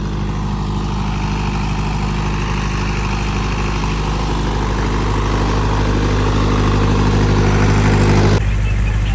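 A tube-well water pump motor on a rice-paddy farm, its bore recently repaired, drones loud, close and unbroken, a steady low mechanical hum that shifts slightly near the end, with no voices.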